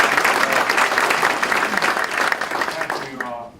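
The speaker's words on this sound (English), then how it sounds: "Let's give Bill a round of applause." Audience at a healthcare task force meeting in Tifton applauding as the host Bill is welcomed, steady dense clapping that tapers off near the end, with some voices mixed in.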